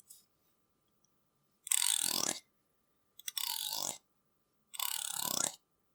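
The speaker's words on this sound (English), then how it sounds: "It's a beard brush." A wooden beard brush sweeps over a furry costume tail in three long, close strokes, each a dry, bristly rasp of about half a second separated by short silences, with no talking.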